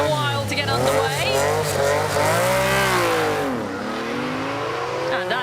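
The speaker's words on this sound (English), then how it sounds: "New revs here for Warren Phillips-Kirk" A rally car on the Forest Rally Stage revs hard and repeatedly, its engine note climbing and falling in loud, close sweeps while a commentator talks over it.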